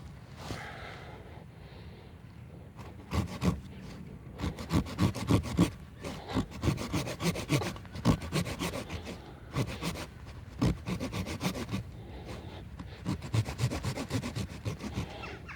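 Rasping handsaw strokes cutting through a cherry sapling branch in a steady back-and-forth rhythm, close by, with a short pause midway before the sawing resumes.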